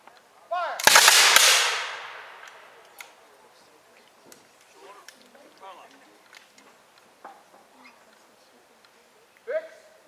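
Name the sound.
musket volley fired by Revolutionary War re-enactors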